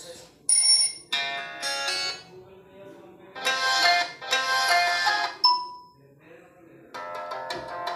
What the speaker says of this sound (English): how to change ringtone in Redmi phone